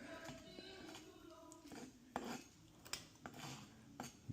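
Silverware clinks and scrapes against a plate while cutting into a rested Wagyu ribeye, giving a few sharp, close metallic taps and rasps over soft background noise.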